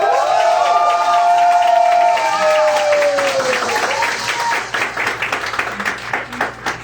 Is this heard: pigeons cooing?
no